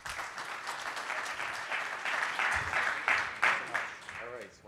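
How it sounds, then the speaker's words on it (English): An audience applauds steadily at a beverage competition finals, with dense, continuous clapping that swells slightly toward the end before tapering off. "Round of applause for Chris."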